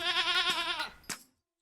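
A goat gives one long, wavering bleat, loud and close, fading out after about a second, with a short soft bump of sound just after. It is a farm animal among others.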